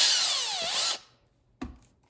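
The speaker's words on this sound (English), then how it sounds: "So what I need to do is do kind of like a countersink. So I'm going to use a bigger drill bit." A power drill fitted with a larger bit whines for about a second while countersinking a screw hole for a smoke alarm base, stops abruptly, and a brief knock follows after a pause.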